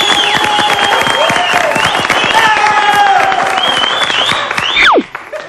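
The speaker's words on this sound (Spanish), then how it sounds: "Un aplauso para ellas, por favor." A studio audience applauds and cheers at a live comedy show, loud and close, while music with a sung melody plays over the clapping before it cuts off sharply near the end.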